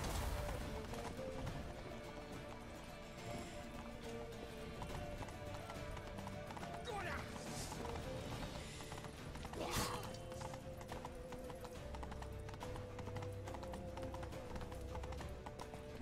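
Horse hooves gallop steadily in The Witcher 3, a continuous clip-clop over the game's background music and ambience, with a brief crash near the middle.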